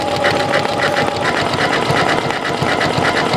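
A sewing machine stitches a buttonhole with a buttonhole foot and contrasting thread, its needle running in a fast, steady, even rhythm, close and loud throughout with no talking.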